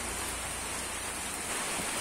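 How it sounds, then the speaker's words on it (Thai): Steady rain falls on a rural duck and chicken farm, a dense, even hiss with no breaks and no voices. "แล้วก็ดูที่เนี่ยฝนตก"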